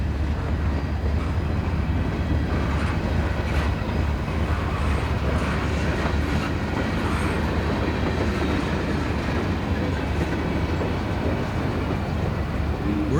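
A CSX freight train rolls past on the former Monon line with a trailing DPU locomotive, a loud, continuous rumble of wagons and steady wheel clatter on the rails that fills the whole stretch.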